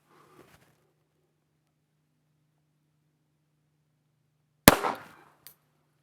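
A single sharp gunshot from an Underwood Penetrator .32 ACP round fired from a pistol at a shooting range cracks out loudly after a long quiet stretch, with a short echoing tail and a faint click afterward.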